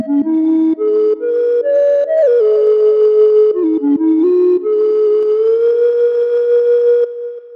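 A Studio One Sample One synth patch plays a sustained melodic line that glides smoothly between pitches, washed in reverb and panned delay. Loud and continuous, with no talking.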